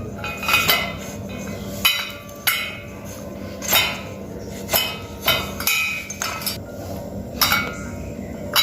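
Metal tools clink and tap repeatedly while nuts are fitted and tightened on a four-stroke GX35 brush cutter, giving sharp, close, irregular knocks at intervals of about a second.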